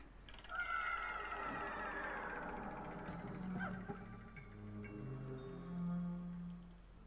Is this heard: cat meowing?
yes